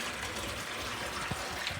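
Water gushing steadily into a tank being filled for horses on a ranch, a continuous rushing flow with a few louder splashes near the end, heard close and alone.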